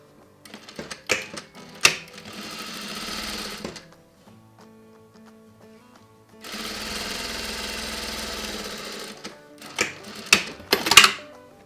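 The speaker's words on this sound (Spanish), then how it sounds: "Vamos a coserlo a medio centímetro." A sewing machine stitches a cotton patch pocket in two long, steady bursts of fast mechanical whirring, separated by a quiet pause and framed by sharp clicks and knocks from handling the machine, close-up with no voices.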